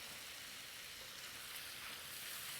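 Garlic and a finely chopped small onion sizzle in melted butter in a pan, a steady, even hiss of frying that holds constant, close and alone, with no talk over it.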